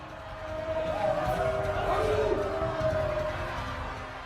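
An angry mob of more than 20,000 royalist protesters approaches through the streets of Paris, a swelling, distant roar of many voices that builds and stays steady, with faint shouts rising out of the mass.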